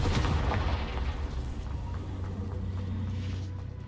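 Confringo fire spell cast in the video game Hogwarts Legacy, a burst of booming explosive impacts followed by a sustained low rumble that slowly fades, fairly loud and close, no talking.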